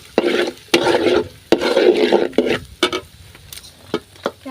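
Green beans being stir-fried with fried egg in a pan for chicken fried rice, with close bursts of sizzling and scraping stir strokes that thin into separate clinks and taps.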